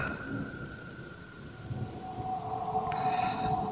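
Steady rain falls on a cold, quiet third floor at night, a constant hiss with low rumbles like distant thunder and a faint sustained tone above it, growing slightly louder toward the end.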